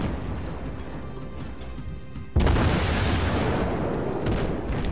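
Main guns of the Chikuma cruiser firing in World of Warships: one sudden heavy boom that rolls into a long rumbling wash over the ongoing battle noise.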